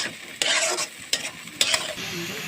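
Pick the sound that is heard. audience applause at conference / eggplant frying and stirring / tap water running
eggplant frying and stirring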